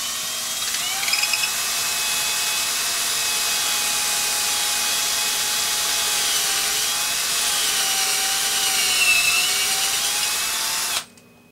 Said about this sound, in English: I'm going to drill through the headstock here, through the veneer